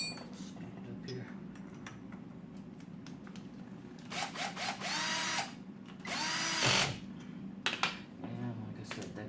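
A power tool drives an Allen screw into the fork of a 1983 Honda Goldwing during a fork seal replacement, with two loud close bursts of whirring in the middle. Faint handling noises surround them.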